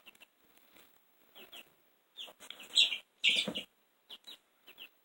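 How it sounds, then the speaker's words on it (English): Chicks clucking noisily at night, a run of peeps and clucks that swells into two loud close bursts in the middle before thinning to scattered calls. "Sorry, the chicks are really noisy tonight."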